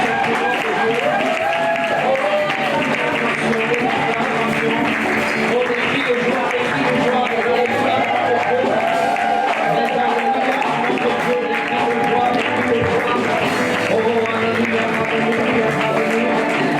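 A church congregation applauding and cheering, dense sustained clapping and shouting voices filling the room loudly and evenly, mixed with overlapping talk and a voice rising over the crowd.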